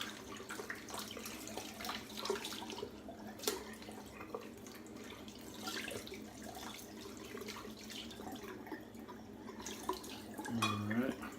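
Tap water runs steadily into a sink while a razor is rinsed under it during a luxury shave, a soft continuous wash with faint drips and a brief splash near the end.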